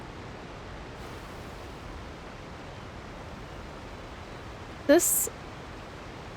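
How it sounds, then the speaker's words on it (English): A huge waterfall in Fontaine in the game Genshin Impact gives a steady, dense roar that fills the whole stretch without letting up. A brief voice breaks in near the end. "waterfall is so loud and so huge"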